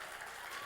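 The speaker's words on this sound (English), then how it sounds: "Let's just all give a big round of applause for that brilliant insight." Applause from an audience, a steady, dense wash of clapping that fills the short moment without any voices rising above it.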